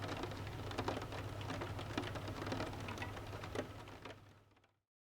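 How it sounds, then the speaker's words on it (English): Rain patters steadily against the big glass windows of a cafe, a soft, even wash of drops that gradually fades away into silence. "the rain made a soothing sound as it hit the glass"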